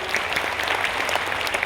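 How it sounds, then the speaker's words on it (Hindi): Loud, steady applause fills a large crowd gathering at the Shantikunj centenary celebration, continuous dense clapping with no pause throughout. "उनके लिए जोरदार ताली होनी चाहिए।"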